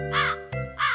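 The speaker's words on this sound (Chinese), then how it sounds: "乌鸦会从头上飞过。" A crow caws twice overhead, two harsh, close, drawn-out calls separated by a short pause, with no other sound around them.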